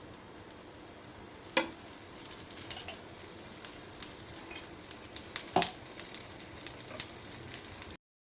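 Ghee sizzles steadily under a crispy fasting pancake (dhirde) in a pan, a continuous close frying hiss with a few sharp clinks or spatters, no talking.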